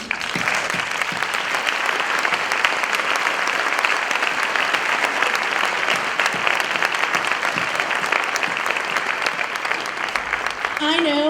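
A large audience claps in sustained, dense applause that holds steady for several seconds before fading out.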